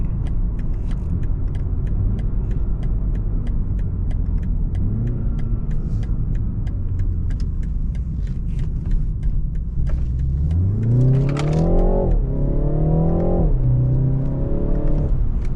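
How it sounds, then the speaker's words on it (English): A 2020 BMW 330i with a four-cylinder engine accelerating hard downhill: a steady, close engine drone, then the revs climb sharply and the engine pulls loudly through rising pitch toward the end, with no talking. "I wanna floor it when I'm going downhill"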